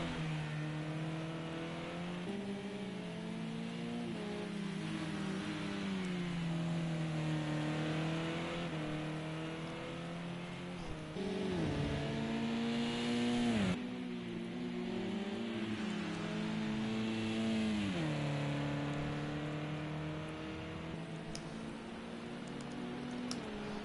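Race cars lap the Brands Hatch circuit, their engines droning loudly and continuously, with pitch climbing and dropping through gear changes as several cars pass close by.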